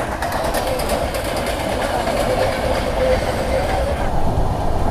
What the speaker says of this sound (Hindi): देखिए हमारी ट्रेन जा रही ब्रिज पे।